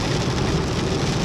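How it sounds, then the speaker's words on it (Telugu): Rain beats steadily on a Hyundai i10 Nios on the road, a loud, close, dense patter filling the cabin with no break. "సడన్ గా చూస్తే ఇక్కడ వర్షం పడుతుంది"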